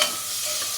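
Spices for a tempering (asafoetida, curry leaves, dried red chillies, mustard seeds and cumin) hit hot oil with a quick, loud, steady sizzle that lasts under a second.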